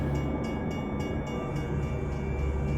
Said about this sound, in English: there's the train coming from the left